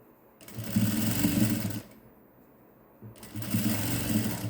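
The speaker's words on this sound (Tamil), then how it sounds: "அதனால தான் நிறுத்தி தைக்கிறேன் நான்" A sewing machine stitches a fancy saree blouse in two close, steady running bursts of about a second and a half each, with a short pause between them and no talking.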